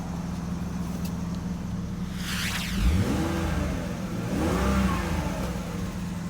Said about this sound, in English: Got the wagon started after months of sitting here.